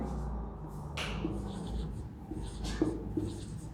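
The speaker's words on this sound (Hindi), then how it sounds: "इधर लिखता हूं साइड में" Marker or chalk writing on a classroom board in a lecture, heard as faint scratchy strokes with a few taps, close and quiet.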